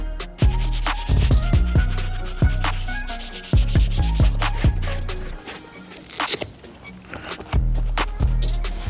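A brush passes over the upper of an Air Yeezy 1 sneaker during cleaning. The strokes are repeated and scrubbing, each a short rough rub, close and fairly loud, with a brief quieter pause partway through.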